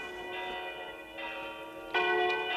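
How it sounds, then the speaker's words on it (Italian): Church bells ring with rich, sustained harmonic tones, new strikes arriving every second or so and swelling louder near the end. "E mentre le campane fanno accorrere qui tutta la gente in arme"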